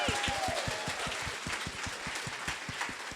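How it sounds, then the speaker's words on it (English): Steady applause and clapping from a panel audience at a book festival author event, many hands beating in a dense, even rhythm close by, with a brief whistle near the start. "Round of applause."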